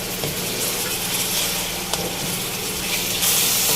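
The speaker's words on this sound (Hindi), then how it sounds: "प्याज को मैं यहाँ 2 से 3 मिनट तक फ्राई करूँगी" Onion fries in oil in a pan with a loud, steady, close sizzle and a faint stirring scrape.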